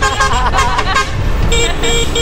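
Several loud vehicle horn toots blare close by in quick succession over traffic rumble on a road in Vietnam, with a second, louder horn answering near the end.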